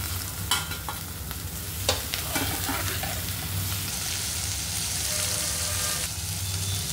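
Okra added to spiced masala in a pan, with loud continuous frying and sizzling and sharp scrapes of a spoon stirring, close up, without talk.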